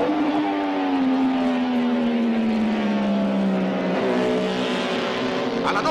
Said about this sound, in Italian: la Benelli di Pasolini ha una leggera sbandata e Ambrosini riguadagna terreno con una pronta accelerazione